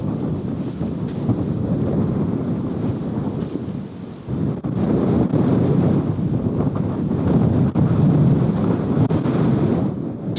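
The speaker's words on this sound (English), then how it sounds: "Just kind of waiting for that wind to calm down." Strong wind sweeps across a disc golf course at the 2025 River Rampage, a constant deep, roaring rumble on the microphone that surges in gusts and briefly dips before building again.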